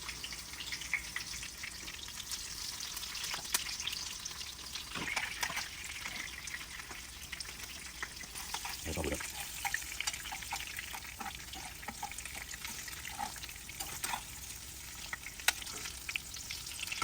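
Sweet potato slices frying in hot oil, a steady close crackling sizzle with bright spitting pops throughout, no voices.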